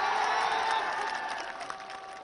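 A crowd at a BJP political rally in India claps and cheers in a dense, loud burst of applause that fades slightly over a couple of seconds.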